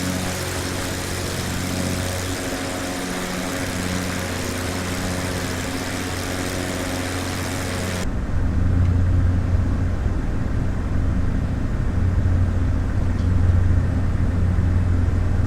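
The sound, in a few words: aircraft engine noise in flight over mountains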